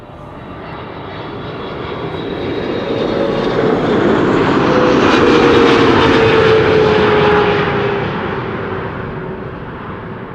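A Qatar Boeing 777 freighter on final approach to runway 36R at Amsterdam Schiphol passes close by, its jet engine roar building, peaking overhead, then slowly receding over ten seconds, with no talking.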